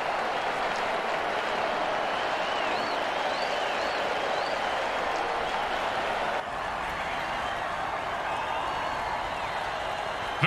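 Crowd cheering in the Mutant Football League video game during a 2020 season week 17 match: a dense, steady stadium roar that runs unbroken for about ten seconds, dipping slightly partway through.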